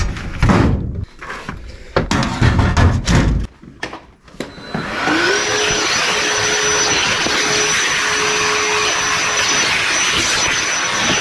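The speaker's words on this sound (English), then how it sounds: "Probably my favorite vacuum. Just turned it on" A vacuum cleaner switches on after a few seconds of clattering and handling noise, then runs steadily with a loud whine and a sustained high tone.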